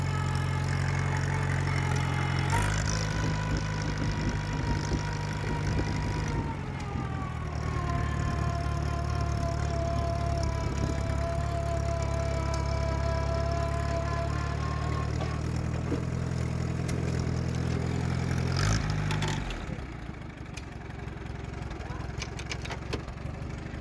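An old Allis Chalmers B tractor on freshly fitted hubs and tires drones loudly nearby, with a steady high gear whine held above the engine and a shift in pitch partway through before the engine note drops near the end.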